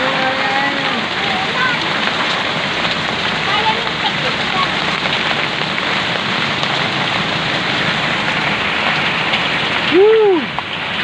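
Heavy rain pouring down in a dense, steady roar that stays loud and close throughout, with faint voices murmuring underneath.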